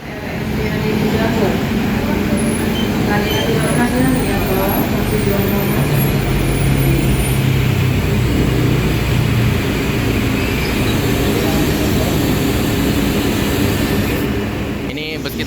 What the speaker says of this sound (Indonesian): Ini bus kita datang. Wih, yuk kita langsung aja naik. Busnya bus gandeng ya.